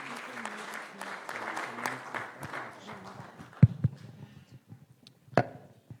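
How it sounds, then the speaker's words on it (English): Scattered applause from a small audience at a CEO Africa Botswana chapter launch fades out over a few seconds, followed by a few sharp knocks and shuffling sounds. "Kindly give him a round of applause."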